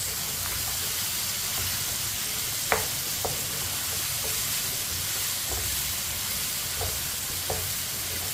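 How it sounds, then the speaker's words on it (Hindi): Potatoes and meat for aloo gosht sizzle and fry in a pot, a steady hissing bed with a few soft clinks of a spoon stirring scattered throughout. "आलू को भी ऐसे ही मिक्स करते हुए 2 मिनट के लिए पका लेंगे।"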